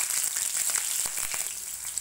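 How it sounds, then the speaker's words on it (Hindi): Green chilies added to cumin seeds already crackling in hot oil give a steady, dense sizzle with scattered small pops, close and continuous with no talking, while cooking a Navratri fasting vegetable dish. "जीरे फूट चुके हैं, अब हम इसमें डालेंगे हरी मिर्च।"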